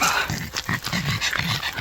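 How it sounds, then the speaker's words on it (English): An island dog outdoors whimpers and makes short yipping barks in an irregular series, fairly close and moderately loud, with no talk over it. "There's a dog and I guess somebody's house down there."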